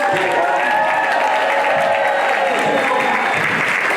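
Crowd at an outdoor public street show in Hawaii breaks into loud, sustained applause with some cheering and whoops, a thick continuous roar of many clapping hands from start to finish.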